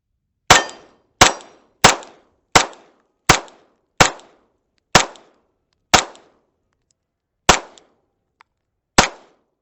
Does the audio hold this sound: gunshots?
yes